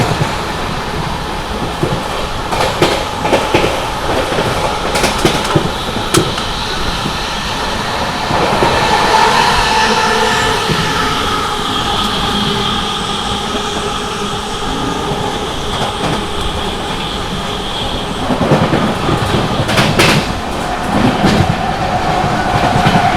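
An Amrit Bharat Express passenger train running at about 130 km/h past Panki Dham station, a loud continuous rumble of wheels on rail with rhythmic clatter and a rising metallic whine partway through.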